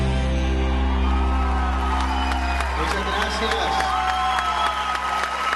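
A church congregation at Mass applauds and cheers, with scattered claps and whoops over a steady low hum, and someone briefly speaks.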